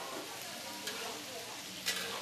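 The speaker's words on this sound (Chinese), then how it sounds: "豆干下锅翻炒，滋滋作响。" Dried tofu stir-fried in a wok for a community elderly meal program gives a steady, broad sizzling hiss with two brief louder scrapes of stirring, no voices over it.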